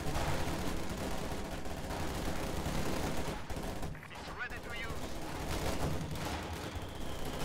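Rapid machine-gun fire from a strafing run rattles through a Company of Heroes 2 battle, dense bursts over rumbling combat with a brief lull midway, while a voice talks faintly underneath.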